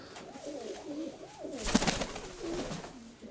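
Pigeons and doves in a fancy pigeon loft give soft, low rolling coos that rise and fall in overlapping phrases, with a brief louder flutter midway, no voices.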